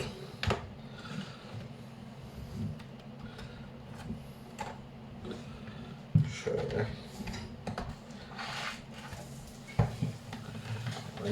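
An Asus K401UQ laptop case is pried open with a plastic pry tool, giving close, irregular small clicks and snaps as the clips release, with a couple of sharper pops over a low steady hum.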